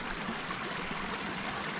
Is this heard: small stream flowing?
yes